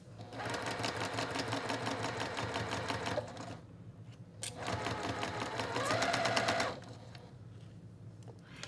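A sewing machine runs steadily in two bursts of a few seconds each, chain piecing quilt block units with pins pulled as it goes, with a quiet pause between the bursts.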